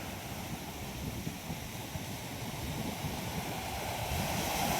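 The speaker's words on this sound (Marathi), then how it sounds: "असं वाऱ्याने लाट भाग येते समुद्रात, खूप वारा आहे" Strong wind gusting over the seashore with sea waves breaking on rocks, a steady roaring wash close to the microphone, buffeting wind noise throughout and no voices.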